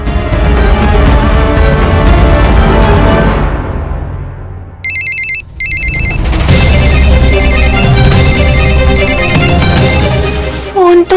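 A mobile phone left behind rings loudly with a repeating electronic ringtone, sounding over background music that continues throughout.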